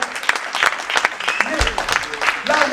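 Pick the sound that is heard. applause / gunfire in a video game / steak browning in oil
applause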